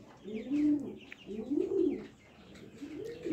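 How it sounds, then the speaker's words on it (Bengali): Jacobin pigeons coo nearby in three rounded, rolling phrases, each about a second long with short pauses between, clear and unaccompanied by speech. "এই যে এখানে আমার জ্যাক কবুতরগুলো"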